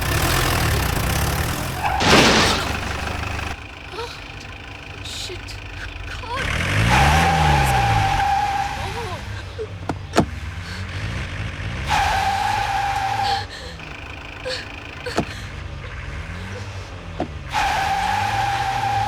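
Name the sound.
car reversing in a hurry on a forest road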